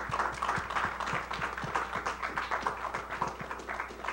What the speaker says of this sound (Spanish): le damos un aplauso al arquitecto Bárcenas